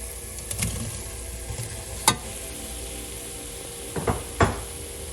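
Linguiça sausage links fry in a pan for Portuguese chorizo and green peas, a quiet steady sizzle broken by a few stirring knocks and utensil taps against the pan.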